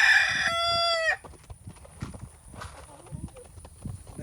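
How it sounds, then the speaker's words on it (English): A single rooster's crow rings out loud and close for about a second, followed by quieter yard sounds. "Y'all can see that the two brother roosters are getting along really good out here."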